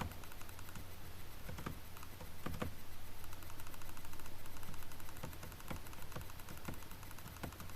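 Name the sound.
computer mouse clicks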